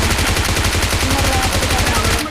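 Rapid gunfire crackles in a battle royale video game, a loud, close burst of evenly spaced shots that continues almost without a break before cutting off at the end.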